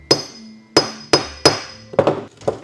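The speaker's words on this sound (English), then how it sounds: "Why don't I use my hammer to get it out?" A 24k gold hammer strikes repeatedly to knock an object loose, six or so sharp metallic clinks at uneven intervals, close and loud with ringing decay.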